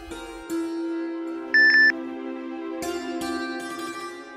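A short two-tone phone message notification beep sounds once, clear and brief, over quiet background music.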